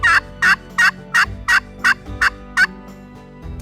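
An eastern wild turkey gobbles eight times in a steady, rapid series, each loud, rattling burst clearly separated by short pauses, with a quiet outdoor background.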